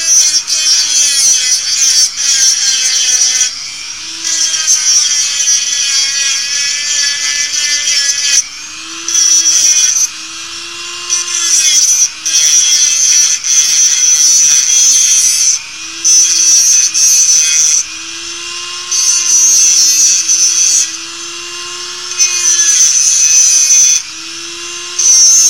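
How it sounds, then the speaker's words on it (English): Power tool grinding down a metal edge left uneven by a wandering hacksaw cut, a loud, steady whine cutting in and out in bursts with brief pauses between passes. "trying to grind off where the hacksaw wandered around during cutting."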